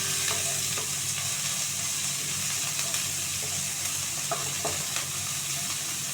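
Chopped onion frying in oil in a pan, a steady loud sizzle with occasional scraping stirs and clinks, no voices over it.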